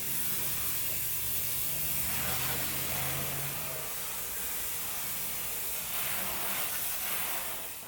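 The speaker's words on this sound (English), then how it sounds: "So I'm just gonna rinse it off, dry" Spray rinsing of a car's undercarriage: a continuous, loud hiss of pressurized water that rushes steadily throughout, with slight shifts in intensity as the stream moves.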